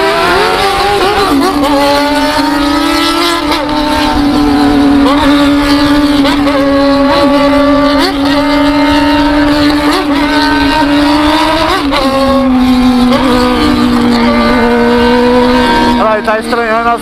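Honda CBR600 motorcycle engine accelerating through the gears, loud close revving that rises in pitch and drops at each shift, repeating several times, with talk over it.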